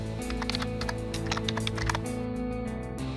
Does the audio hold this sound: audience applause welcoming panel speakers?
no